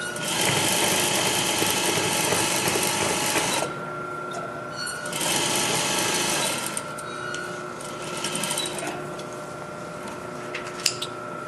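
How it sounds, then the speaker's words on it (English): A sewing machine stitches a seam in fabric, running in a steady close whir for a few seconds, pausing briefly, then running again more unevenly, with light mechanical clicks near the end. "take a few stitches, and sew slowly and carefully to the end."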